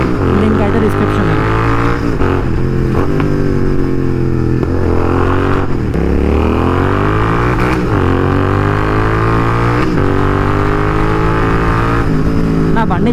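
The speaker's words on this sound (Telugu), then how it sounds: "బండి చాలా సౌండ్ తగ్గిపోయింది ఎందుకో మరి తెలీదు" A motorcycle engine with a quieter-than-usual exhaust and a weak fuel pump running steadily, its loud drone rising and falling in pitch over about thirteen seconds of riding.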